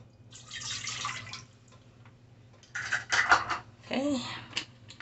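A cup of water is poured into a pot on a stove burner, giving a splashing, trickling pour with clinks of pot and utensils. A faint background hum runs underneath.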